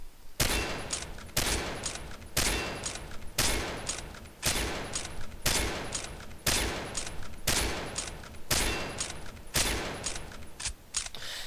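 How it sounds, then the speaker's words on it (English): An M24A3 Woodland bolt-action sniper rifle in the shooter game Combat Arms fires from the hip, about ten loud, sharp single shots spaced roughly a second apart, each with a brief ringing tail. "So that's the short range hipfire testing of the M24A3 Woodland."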